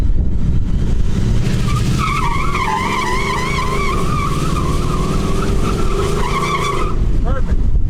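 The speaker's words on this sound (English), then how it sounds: "Do the burnout." A car does a burnout on wet tires at a rental race track, its engine roaring low and steady as the tires squeal loudly and continuously for about seven seconds before it cuts off.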